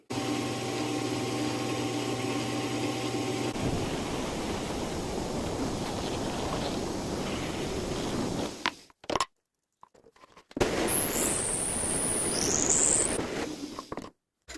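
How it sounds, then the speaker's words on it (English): A drill boring through a scrap-built hunting knife handle to make a hole for the tang, giving a steady grinding drone for about nine seconds, then a brief gap and a second burst of drilling with a high whine. "So now I'm going to be drilling a hole in this for the knife tang to go through."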